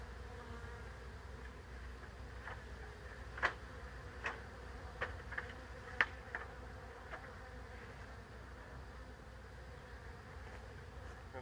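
A swarm of bees gathered outdoors, giving a faint, steady low buzzing hum with a few brief sharp ticks and clicks scattered through it, heard at a distance with no talk.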